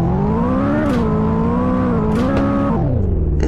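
McLaren 620R engine in the video game Car Dealership Tycoon, a loud, continuous droning roar that rises and dips with the revs and then drops in pitch near the end, heard alone.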